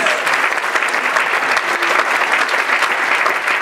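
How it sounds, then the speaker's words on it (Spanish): Loud, dense applause from a church congregation during a sermon, a continuous wash of many hands clapping close by, with some vocal cheering mixed in. "Un aplauso fuerte a ese Cristo Jesús."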